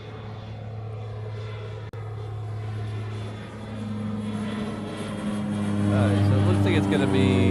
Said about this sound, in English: We do have a plane coming in on 8 left. It's a 717